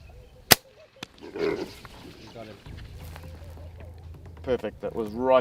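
An FX Royale arrow gun fires a single sharp, loud crack at a blesbok, followed by a softer thud a moment later, then outdoor ambience with low rumble and people talking quietly nearby.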